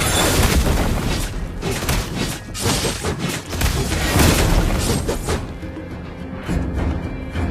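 Turret being destroyed in Mobile Legends, a dense rumbling burst of booms and crashing impacts that fills most of the clip before thinning into quieter game sounds.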